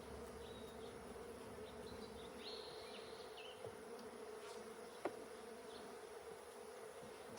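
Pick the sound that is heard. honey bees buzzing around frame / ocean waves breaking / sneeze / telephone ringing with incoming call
honey bees buzzing around frame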